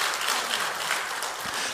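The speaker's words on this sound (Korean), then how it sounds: "우리 박수로 한번 격려해 주셨으면 감사하겠습니다" A church congregation at a Sunday service applauds together, a dense, steady wash of many hands clapping in a large hall.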